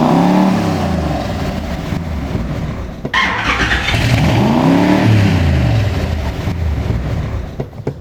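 A car engine revs hard with the throttle stuck wide open, a loud sustained roar rising and falling in sweeping waves with a brief squeal, continuous across the clip with no talk.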